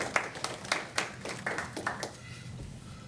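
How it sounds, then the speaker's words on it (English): An audience at a forum on captioning local news programs applauds panelists, a scattered round of hand claps that rises in a few loud bursts and then thins out to a faint patter. "A big round of applause,"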